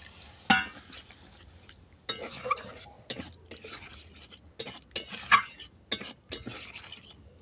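Bottle gourd greens with spice paste are stirred in a pan, giving close, irregular scrapes and clinks of a utensil against metal separated by short quiet gaps, with no voices.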